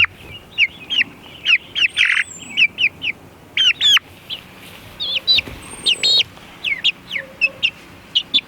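Hens and newly added pullets in a backyard coop let out repeated sharp squawks and clucks, with a few chirps mixed in, in irregular bursts close by.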